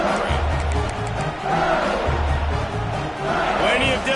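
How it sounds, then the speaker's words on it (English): A loud stadium crowd in the Madden 24 football game yells and screams steadily throughout, a dense roar swelling in waves, with a commentator talking over it. "for an entire game, they are on their feet, yelling, screaming"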